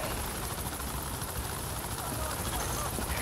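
A helicopter in the video game Tom Clancy's The Division gives a loud, steady rotor roar that fills the scene, with voices faintly underneath.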